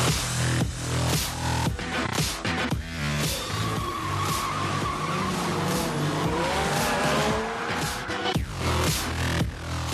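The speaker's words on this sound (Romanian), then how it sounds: "Mici, dar puternice, cu tracțiune 4x4 și fără șofer, 10 de mașini în miniatură s-au întrecut" Ten small 4x4 short-course radio-controlled Team Durango cars race on a purpose-built off-road track, their high-revving electric motors whining and tires skidding as they pass close by in repeated loud bursts.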